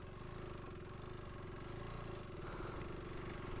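A KTM 390 Adventure R motorcycle engine runs steadily at moderate revs in second gear, a continuous throbbing drone with some mechanical clatter throughout.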